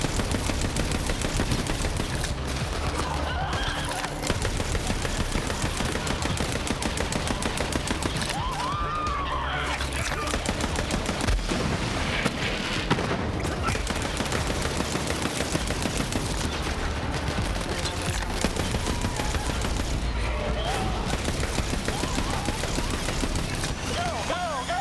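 Sustained automatic gunfire in the shooter Borderlands 3, rapid bursts of weapon fire pounding almost nonstop with short pauses, loud and close, while people talk over the shooting.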